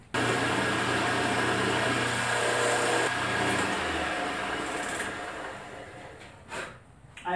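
A power drill drilling holes for a telescope mirror cell whirs steadily at close range for about three seconds, then winds down; a brief rattle follows near the end.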